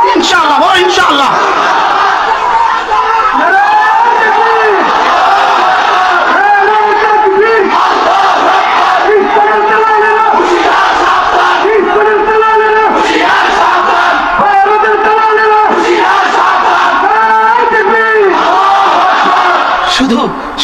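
A large crowd at an Islamic sermon gathering shouts loudly in unison in response to the Takbir call, repeated rhythmic roars in waves, close and loud throughout.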